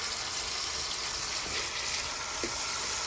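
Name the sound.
stirring chicken and peas curry with a spoon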